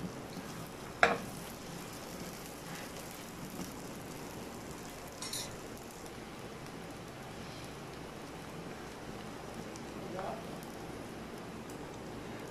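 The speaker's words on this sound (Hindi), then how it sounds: "हमने कुछ देर के लिए इसे फ्राई किया" An open malai sandwich frying in a pan, giving a faint, soft steady sizzle with a sharp clink near the start and a few light scrapes later.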